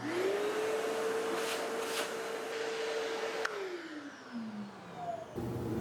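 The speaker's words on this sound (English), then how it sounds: "Whereas this one will just run steadily," A YowMoft woodworking dust extractor with no active filter cleaning runs with a steady, close whine, then its pitch sinks as the motor winds down toward the end.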